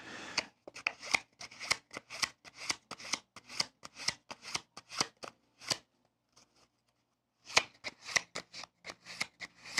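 Playing cards shuffled and handled during a card magic trick: rapid riffling bursts in a steady rhythm, close and crisp, pausing briefly near the end before resuming, with no voices.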